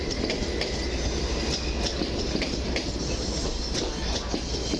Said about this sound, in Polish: melduje się flirt kolei mazowieckich z pociągiem do Warszawy Głównej